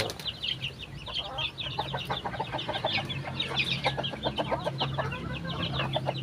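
About sixteen chickens cluck and chatter continuously at close range just after release from their coop, a busy overlapping flock sound with no one talking.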